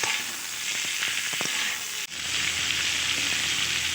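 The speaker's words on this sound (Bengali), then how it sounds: "এবার খুব ভালোভাবে মশলার সাথে আমি ফুলকপি আলুর চিনটাও কষিয়ে নেব" Cauliflower, potato and fried chopped lentil pieces being sautéed with spices in a pan give a steady, close sizzle with a few stirring scrapes, and no voices.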